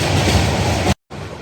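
The Burimari Express rolls along the rails with a loud, steady rumble and clatter heard from inside the coach, then the noise cuts out abruptly and resumes more quietly after a brief gap.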